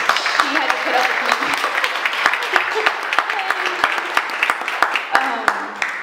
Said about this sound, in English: So I would love to clap for her